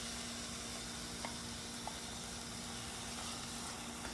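Spice paste for methi matar malai sizzles steadily in a hot pan, a constant dense hiss with a few faint stirring ticks and a low hum underneath, no voices.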